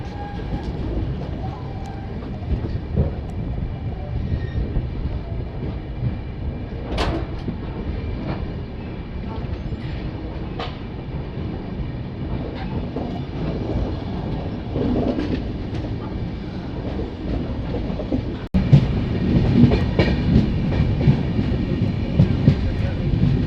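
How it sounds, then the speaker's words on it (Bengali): The 13145 Kolkata–Radhikapur Express runs toward Raiganj, heard from inside a coach as a continuous heavy rumble with rhythmic wheel clatter and occasional sharp knocks, growing louder near the end. "আমাদের ট্রেন এখন রায়গঞ্জ ঢুকছে"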